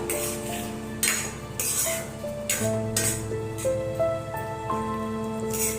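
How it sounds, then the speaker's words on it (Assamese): A metal spoon stirs dahi chicken curry in a pot after water is added, with clinks and scrapes in short bursts against the pot over soft background music. "পানী দি পেলাই ভালদৰে লৰাই ঢাকি দিব।"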